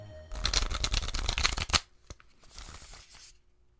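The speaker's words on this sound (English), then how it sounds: "I'm shuffling our cards for our game of Fluxx later on." A deck of Fluxx game cards is riffle-shuffled close up, a fast rattling flutter ending in a sharp snap, followed by a few lighter card taps and a softer second riffle.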